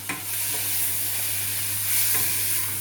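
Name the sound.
stirring a white wine sauce with salt and pepper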